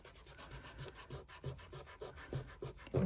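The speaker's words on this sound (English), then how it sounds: "Give him a little rub down." A sticker on a Christmas coaster being rubbed down, rhythmic close scratchy strokes repeating about three times a second, quiet and alone.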